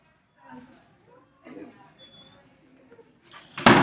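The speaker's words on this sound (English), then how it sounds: "I gotta close the door 1 second." A door closing indoors during a talk, ending in a sharp, loud bang after quieter shuffling and brief speech beforehand.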